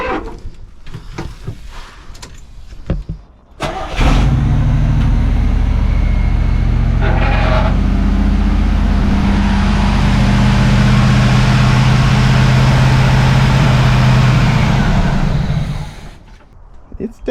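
A 1979 Chevrolet Camaro Z28 V8 fires up after a carburetor rebuild and settles into a loud, steady idle, with a deep continuous rumble from about four seconds in until it cuts off near sixteen seconds; brief talk precedes the start.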